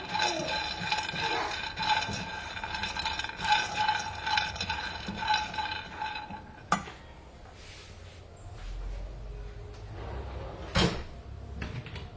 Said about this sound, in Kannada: ಸ್ವಲ್ಪ ರೋಸ್ಟ್ ಆಗೋವರೆಗೂ ನಾವು ಕಡಲೆಕಾಯಿ ಬೀಜನ ಹುರ್ಕೋಬೇಕು